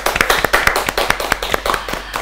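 A studio audience at a Bishkek music talk show claps, a quick run of close, uneven handclaps with no voices over them.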